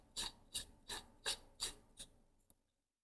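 Rhythmic rasping scrapes as a lightsaber handle is screwed back onto the hilt, six short twisting strokes close by, ending in a small click as it seats.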